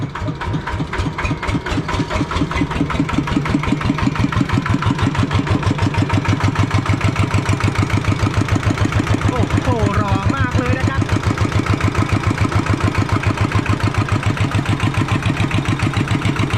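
A motorcycle engine held in neutral revs up loudly and steadily, a dense rhythmic pulsing roar that rises after a soft start and holds a strong throbbing beat close to the microphone throughout.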